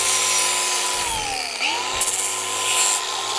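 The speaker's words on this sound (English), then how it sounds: "whoever invented these flapper wheels, I'd like to thank them" A flap disc on an angle grinder rounds off the edges of metal bracket tabs for an exhaust hanger on an old Saab 95, a steady high whine that dips in pitch as it bites into the steel.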